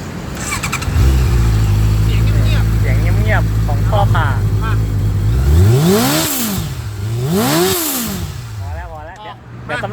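Honda CB650F motorcycle at a bike shop, its engine starting and then idling steadily before two strong rising-and-falling revs and a few quicker blips, loud and close, with people talking in the background.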